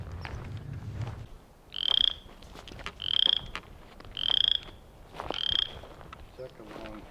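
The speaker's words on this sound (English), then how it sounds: "Gonna head to where we heard a frog." Frog croaking near a pond at Dogtown Campground in Williams, Arizona: four short, evenly spaced calls at moderate distance over soft outdoor background, with no talk.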